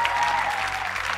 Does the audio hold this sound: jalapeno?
no